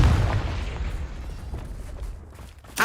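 A Confringo blasting-spell explosion in the Hogwarts Legacy video game, a low booming burst at the start that rumbles and fades, with a sharp louder hit at the very end.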